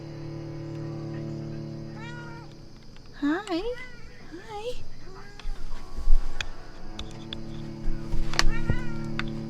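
A cat meows several times in the video game Vampyr, rising and falling cries over a steady low game ambience, with a person speaking briefly alongside.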